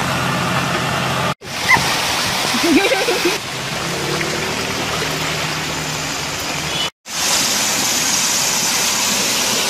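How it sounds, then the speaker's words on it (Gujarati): Loud, steady rushing of a flooded Par river at Pardi roars continuously, broken by two brief cut-outs, with faint voices beneath. "પારડી પાર નદીમાં રેલ આવી હતી"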